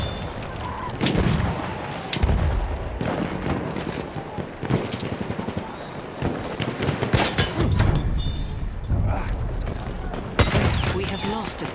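Battlefield 1 trench battle on the Nivelle map, with bursts of enemy machine gun fire and shots cracking repeatedly across the whole stretch, loud and dense, mixed with battle noise and shouted voices.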